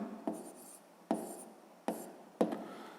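Pen or pencil writing out a fifth-grade division problem on paper, four distinct bursts of scratchy strokes with brief pauses between, close and quiet, no speech.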